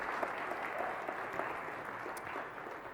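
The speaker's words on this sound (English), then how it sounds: "big round of applause." An audience at a startup pitch competition final claps in a dense, even round of applause, moderately loud and sustained, easing slightly toward the end with no speech.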